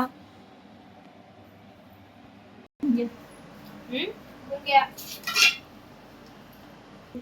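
An iron tava set down on a stove for making puran poli, with several metallic clanks and scrapes of cookware in the second half after a quiet start, and a voice speaking nearby.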